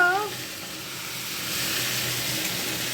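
Hot cooking oil spatters and sizzles in a pan during vegetarian frying, a steady broadband crackle that holds for the whole stretch, fairly close.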